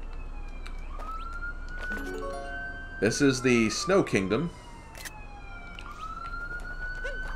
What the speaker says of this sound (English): that is an ambulance or a fire truck or some kind of emergency vehicle you probably hear outside